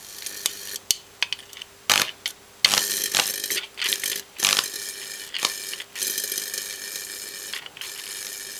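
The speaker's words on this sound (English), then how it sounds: "There, crack the glass." Glass cracking on a water-filled CRT tube as it arcs to ground: a dense run of sharp mechanical clicks and crackles, some loud snaps standing out, continuous for several seconds with no talking.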